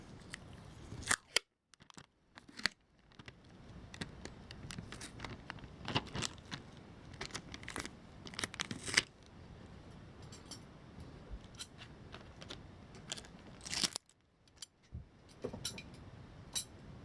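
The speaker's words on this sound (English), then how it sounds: "So we are going to add some tape." Tape is added to macrame cords on a cylinder piece: faint, crackly tearing and sticking with sharp clicks and snaps scattered irregularly through a quiet room, no talking.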